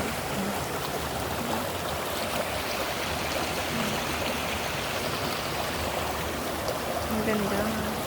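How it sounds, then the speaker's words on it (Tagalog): A river on Hong Kong's Yellow Dragon River flows with a steady, full rushing and babbling that stays constant throughout, with faint voices in the background on a sunny day. "Flowing water talaga."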